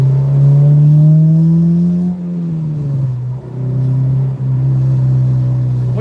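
A car engine drones loudly and close, its pitch rising, dipping and settling as it is revved and held, with no talk over it.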